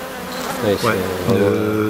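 A few black honeybees buzz close around an open hive during a colony inspection, a steady hum with harmonic whine rising and falling as individual bees pass near.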